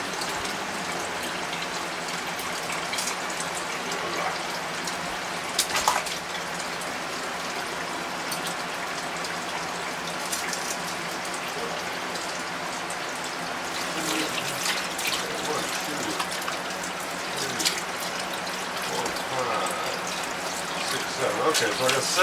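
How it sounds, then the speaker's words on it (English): Running purified water rinses raw chicken wings in a kitchen, a steady splashing stream that continues throughout with a few brief clatters and faint talk beneath. "now we'll rinse them in some purified water"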